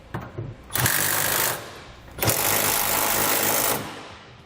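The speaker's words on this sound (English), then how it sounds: "now we'll use the 3/4 inch socket and tighten these nuts down until they're flush to the bottom of the bolt" A power impact tool drives a 3/4 inch socket onto fifth wheel hitch nuts under a 2017 Ram 2500, in two loud rattling bursts of about a second each, separated by a short pause, with a few faint knocks before the first.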